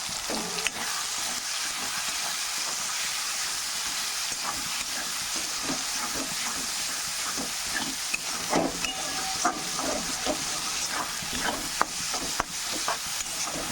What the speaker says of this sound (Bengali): খুব একটা বেশি সময় এটা নাড়তে হবে না, অল্প টাইম নাড়লেই হবে